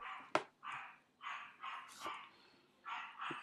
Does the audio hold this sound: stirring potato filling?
no